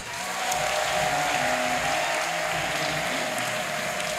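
An audience at an evangelist's church gathering applauds, a sustained wash of clapping lasting several seconds at a steady level, with no speech over it.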